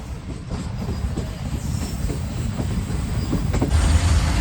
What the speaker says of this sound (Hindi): नवाबशाह से चलने के फ़ौरन बाद ये आ चुका है सरहारी रेलवे स्टेशन, जहाँ पर ट्रेन रुकने के लिए पहुँच रही है।